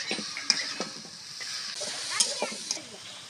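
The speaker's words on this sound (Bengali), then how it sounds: "লবণ দিয়ে ভালো করে একটু নাড়াচাড়া করে দিব" Vegetables with salt are stirred in a frying pan, a soft continuous sizzle with repeated scraping and light clinks of a spoon against the pan, close and moderately loud.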